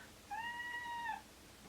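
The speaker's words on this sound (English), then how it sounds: "That was my cat." A house cat gives a single drawn-out meow, clear and tonal but fairly soft, alone against a quiet indoor background.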